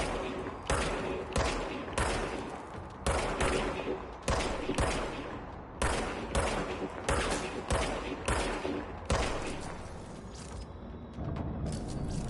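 Gunfire from the service weapon in the action game Control: about a dozen loud, close shots spaced roughly a second apart, each with a sharp crack and a short ringing decay, then a denser stretch near the end.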